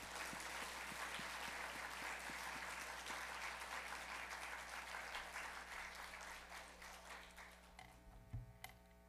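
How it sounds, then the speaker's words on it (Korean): A Korean church congregation claps to welcome the pastor to the pulpit, a full, sustained round of applause that fills the sanctuary, then tapers off to quiet with a faint hum underneath. "우리 박수로 모시기를 바랍니다."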